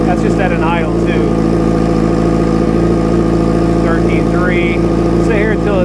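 A 2005 Yamaha R6 motorcycle engine idling during a charging-system check, a loud, constant low rumble close by, with a person talking over it.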